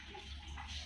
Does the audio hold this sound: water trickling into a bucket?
yes